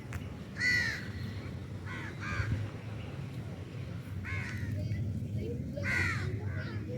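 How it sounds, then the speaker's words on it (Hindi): Crows caw repeatedly in a park at evening, harsh calls arriving in scattered bursts over a constant low rumble of background noise, with some talk in the background. "यहाँ पर कव्वों ने इतना शोर मचाया हुआ है, शाम का टाइम है।"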